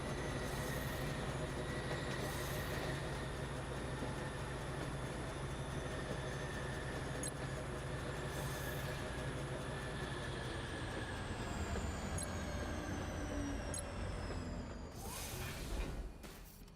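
A video game train runs at about 172 km/h with a steady, loud rumble of wheels on rails and mechanical hum, then brakes to a stop near the end as the noise drops away.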